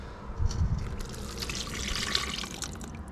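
Lamb broth with seasonings pours into a hollowed pumpkin as a soft, close trickle and splash of liquid, with a few dribbles and quiet handling noise and no talk.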